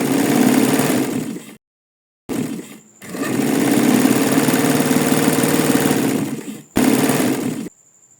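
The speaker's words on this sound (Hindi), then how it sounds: "सो ये हमने फैब्रिक प्रेशर फुट के नीचे रखा और सिलाई लगानी स्टार्ट कर दी" A sewing machine stitches fabric held under its presser foot, running in three loud, steady mechanical bursts separated by short pauses, with no talking.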